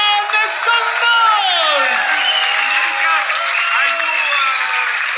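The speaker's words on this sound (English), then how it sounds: "Ladies and gentlemen, Cindy Blackman, make some noise!" A festival stage crowd cheering and applauding for drummer Cindy Blackman, whoops and claps under a loud announcer's voice over the PA.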